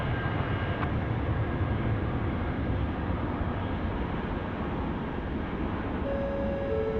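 A jet airliner departs Sydney Airport's runway 16 right at night, its engines making a steady, broad rumbling roar that holds at an even level from start to finish, heard alone without voices.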